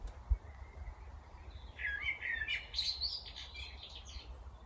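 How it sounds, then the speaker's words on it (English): Birds chirp and sing near a greenhouse over steady low background rumble, with a cluster of bright tweets rising midway and then trailing off. "The bird song is so lovely,"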